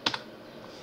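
A single computer keyboard key pressed twice in quick succession while modelling in 3ds Max: two short, close, crisp clicks at the very start, then quiet room tone.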